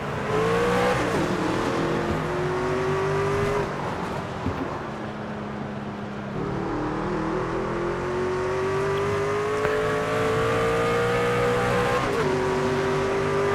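A race car in the NASCAR 25 video game roars continuously at high revs, its engine tone rising through the gears with brief dips at each shift, loud and close throughout.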